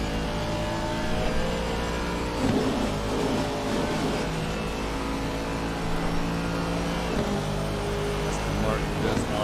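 A BMW race car engine from a wet Monza racing video game, droning and revving steadily. The engine plays continuously beneath constant spoken commentary.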